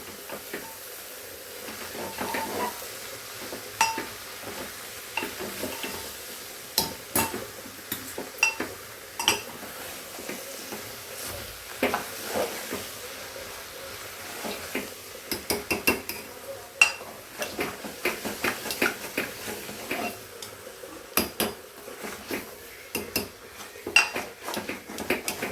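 Guar bean curry stirred in a metal pan with a spoon, close-up clattering and scraping of utensil on metal, irregular clinks spread throughout over a faint background hiss.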